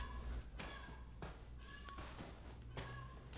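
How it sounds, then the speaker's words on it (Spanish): A pet cat meows from just outside a room, several separate harmonic cries spaced a second or so apart, moderately faint over a steady low background hum. "como mi gatita está aquí afuera, afuera del cuarto"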